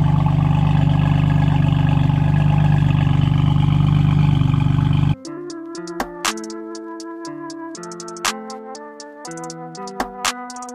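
A BMW M4 CS with an Akrapovic exhaust and downpipe idles with a loud, steady, deep rumble for about five seconds, then gives way to melodic tonal notes.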